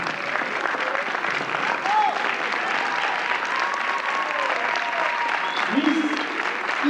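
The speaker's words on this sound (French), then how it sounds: "On peut l'applaudir effectivement, bravo aux autres candidats également" Steady applause from an audience at a Miss India Réunion 2019 pageant, clapping continuously for a candidate, with a brief voice rising over the crowd near the end.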